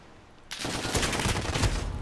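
SKS rifle fire in a video game, a sudden burst of rapid, loud shots that starts abruptly and keeps rattling on densely after a quiet opening.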